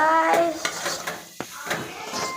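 Spoon scrapes and clinks against a pan while chili powder is stirred into a sizzling cooking mixture, irregular close knocks and scraping over a soft fry, with a brief tonal voice-like sound at the start.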